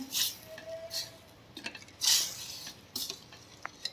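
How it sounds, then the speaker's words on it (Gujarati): Cooked dal tipped into a pot and stirred once, with a few soft clinks and scrapes of utensil against metal spaced across a quiet stretch, close and fairly faint. "હવે ઢાંકણ ખોલી અને બધી જ દાળ એમાં આપણે નાખી દઈશું અને એક વખત મિક્સ કરી દઈશું"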